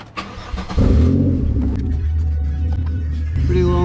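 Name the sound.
2000 Chevy Impala 3.4 liter V6 starting, loud exhaust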